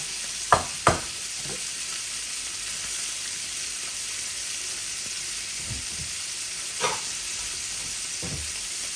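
Cumin seeds and two or three bay leaves sizzle in hot oil for a Bengali koi fish and radish curry, a steady close frying hiss with a few sharp crackles and pops, no talking.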